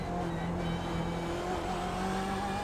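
A BMW M8 race car on the Belle Isle street circuit in iRacing, its engine droning steadily close up with a rising, shifting tone as it changes gears, a continuous loud motor whine.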